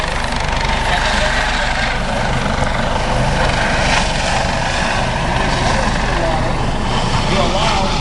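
A US Coast Guard MH-65 rescue helicopter flies a demonstration at the 2012 Stuart airshow, its rotor thumping and turbine whining loudly and continuously, with a commentator talking over it.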